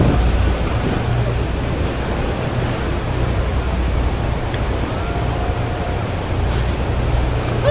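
Constant roaring rush of heavy water at Niagara Falls in a thick mist, a dense, steady wall of noise that stays loud and unbroken throughout, mixed with wind buffeting the microphone.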